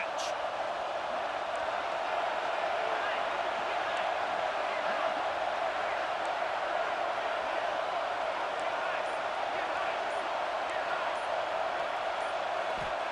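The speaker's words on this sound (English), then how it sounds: "this crowd is at fever pitch" Continuous stadium crowd roar from a college football video game, a steady broad wash of noise filling the whole stretch at an even level with no clear peaks.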